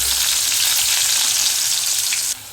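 Onions sizzle and fry hard in hot oil with mustard seeds spluttering, a dense, close, steady crackle that drops off sharply near the end.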